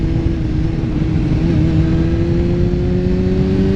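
A motorcycle engine runs loud and close, its whine rising steadily as it accelerates.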